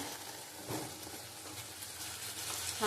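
Ginger and cumin paste sizzles quietly in hot oil in a pan for a Bengali katla fish curry, a soft steady hiss with faint stirring scrapes and a brief louder clatter at the very end.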